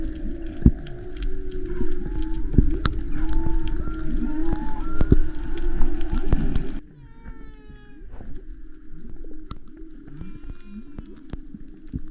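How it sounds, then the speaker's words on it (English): Whales vocalize underwater beneath a boat on a spearfishing trip, a dense chorus of low moans, whistles and clicks that stays loud and busy, then drops to fainter, sparser calls partway through. "I don't know if you guys can hear that, but there are so many whales down there."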